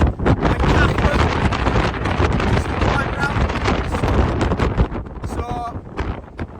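Strong, gusty wind buffets the microphone on the exposed summit of Ullock Pike in the Skiddaw fells, a loud continuous broadband roar with surging gusts throughout and a brief tonal flutter near the end.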